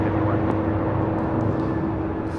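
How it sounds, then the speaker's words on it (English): A United Boeing 777-300ER airliner takes off from runway 24 left at LAX, a steady, broad engine roar that holds constant and sounds distant, with nobody talking over it. "The flight heading to Honolulu, the United 777-300ER, taking off on 24 left"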